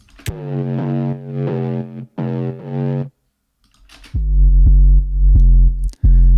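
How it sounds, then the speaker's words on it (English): Heavily distorted, saturated synth bass playing mid-range notes in short bursts with brief gaps, loud and gritty with no voices. "another amp, another gate, a saturator, a compressor, another reverb, more EQing, and a compressor at the end"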